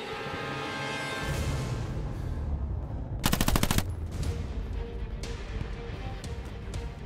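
Game gunfire from Hell Let Loose, a World War II shooter, with a tight burst of rapid automatic fire in the middle and scattered single shots before and after over a constant battlefield rumble.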